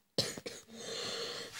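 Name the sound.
cough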